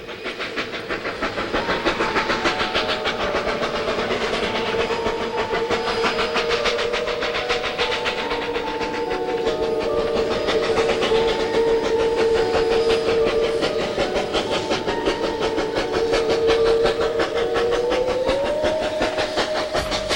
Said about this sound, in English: Narrow gauge railroading in the silvery San Juan winter.